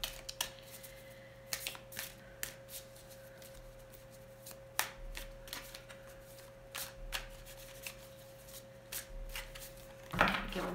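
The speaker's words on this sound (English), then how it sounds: "Give them a good shuffle here," Tarot cards are shuffled in quick riffling bursts with short pauses between them, close up over a steady low hum.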